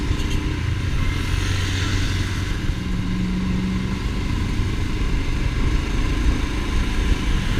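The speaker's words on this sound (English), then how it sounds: "I adore already about this motorcycle, is how effortlessly goes uphill." A Royal Enfield Himalayan motorcycle engine drones steadily under load climbing uphill, with a low rumble and rushing wind, the rider moving at a constant pace close by.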